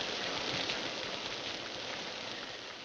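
Steady rain falls as a dense, even hiss throughout, with no voices.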